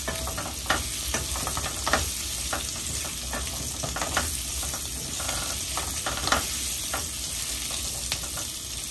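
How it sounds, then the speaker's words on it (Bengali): Steady sizzling and crackling of boiled potatoes frying in a hot pan after duck eggs, with frequent small pops and spits, close and continuous with no talking. "আলুগুলোকেও একইভাবে লাল লাল করে ভেজে নেবে"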